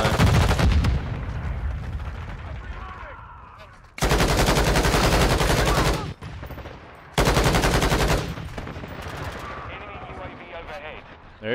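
Automatic gunfire rattles in a shooter video game in long, loud, dense bursts with brief gaps between them, close and harsh, with someone talking between and over the volleys.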